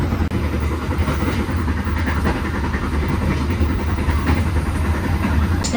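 A commuter train on the Jakarta–Bandung line pulls away after a one-minute stop at a station, a loud, steady rumble of engine and rolling stock close by with faint rail clatter, with no talking.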